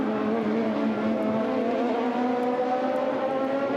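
A 2008 IndyCar race car crosses the line, its engine holding a sustained, steady high-pitched drone throughout at a consistent loudness, with no voices over it.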